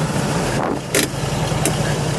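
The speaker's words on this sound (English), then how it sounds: "So it'll idle until it warms up, and then I kick that in and it idles good." Cold-started engine on a Camaro idling steadily after a couple of throttle pumps, low rumbling drone close by with a few brief higher hisses over it, no talking.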